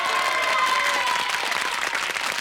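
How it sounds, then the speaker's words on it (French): Brief, full applause from a television studio audience for comedian Denis Levasseur, with a faint tone and a murmur of voices beneath the clapping. "Vous pouvez l'applaudir encore lui"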